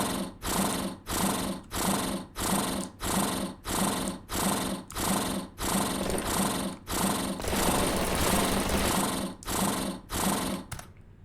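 A chainsaw-wielding enemy in a video game running its attack animation, giving a loud, rough mechanical buzz that pulses in steady bursts about twice a second, then holds continuously before cutting off abruptly at the end.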